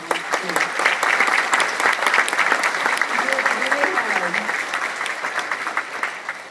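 Sustained applause from a crowd, steady clapping throughout with a few faint voices underneath, fading slightly toward the end.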